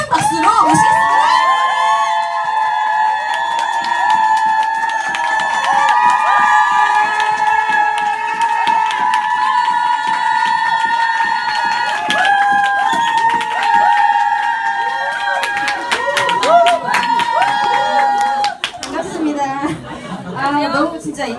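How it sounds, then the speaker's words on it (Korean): At a business lecture event, an audience lets out a long, loud swell of cheering, whooping and applause that welcomes a guest speaker to the stage, sustained for about twenty seconds before fading. "사장님들의 함성 박수가 필요하겠죠?"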